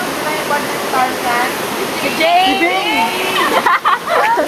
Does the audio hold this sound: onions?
no